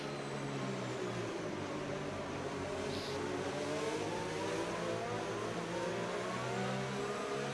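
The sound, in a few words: Formula 1 race car engine revving in F1 25 video game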